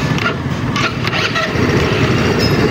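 Motorcycle with a freshly rebuilt engine block, heard as a steady broadband engine roar across the whole short span, fairly loud and close, with no clear start-up transient.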